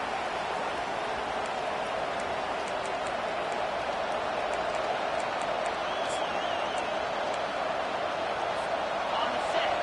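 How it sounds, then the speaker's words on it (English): A stadium crowd at a college football game in NCAA 25 roars in a steady, dense wash of cheering that holds at full volume, with an announcer's voice running over it. "This crowd, full throat, splitting the eardrums"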